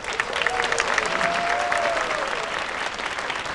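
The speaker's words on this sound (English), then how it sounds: "let's give a round of applause for the Woodside High School Chamber Orchestra." A banquet audience gives steady, sustained applause for a high school chamber orchestra, a dense wash of clapping hands at even loudness throughout.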